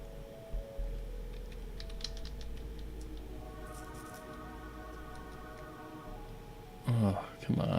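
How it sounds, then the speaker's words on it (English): Typing on a computer keyboard during a live astronomy session, soft scattered clicks over a steady mechanical hum, with a voice speaking briefly near the end. "I'm typing it in, but it's taking time."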